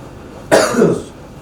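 A single sharp, nearby cough cuts into a quiet room during a football discussion, with a short throaty tail after the burst.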